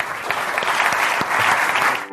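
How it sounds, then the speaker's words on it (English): Conference audience applause, a dense, steady wash of many hands clapping from a large crowd, sustained and fairly loud for a couple of seconds. "if we can give them a big round of applause"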